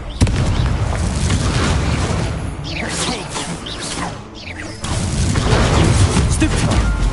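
Confringo explosive spell blast in Hogwarts Legacy on PS5, a loud sustained booming burst with whooshing swells that dips briefly before surging again, no talking.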